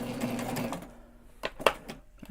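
A sewing machine running a basting stitch while sewing a backpack, a close mechanical whir for about a second, then a few short clicking bursts after a pause.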